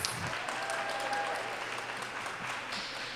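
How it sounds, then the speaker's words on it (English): Audience applause at a Grade 4 primary school academic bowl, a steady sustained clapping that fills the room from start to finish. "Round of applause."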